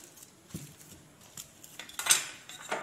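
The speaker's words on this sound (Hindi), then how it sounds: "देखिए मैश कर लेंगे इसको" A metal utensil mashes boiled vegetables for a mirchi vada samosa filling, giving soft irregular clinks and scrapes against a pot with a brighter clatter near the end. Close and moderately loud, with no talking.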